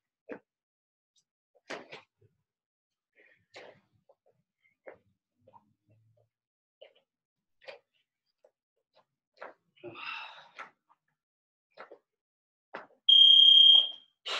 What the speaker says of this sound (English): I'm gonna go ahead and turn off the timer really quick so it's not buzzing